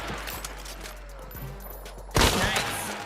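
Gunfire in a shooting video game, a sudden loud burst of rapid shots erupting near the end after quieter clicks and mechanical sounds.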